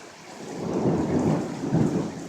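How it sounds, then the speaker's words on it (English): Thunder rolls and rumbles through a thunderstorm with heavy rain, a deep sustained roar swelling and fading over steady downpour, with no voices. "look at the thunder cross by"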